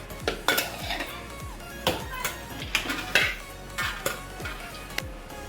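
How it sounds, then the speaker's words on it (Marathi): Cooked rice for chicken biryani being mixed in a large metal plate: a steady series of clattering scrapes and knocks of utensil on metal, close and fairly loud, with no talking. "मिक्स करते भाताची"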